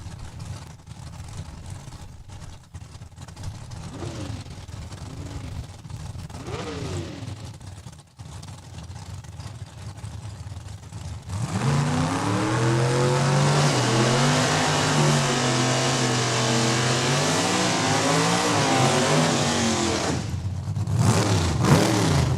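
Drag race cars, a Pontiac Acadian and a Camaro, run at a raceway: a muffled engine idles and burbles first, then loud, harsh racing engines roar and rev hard with shifting pitch through the rest.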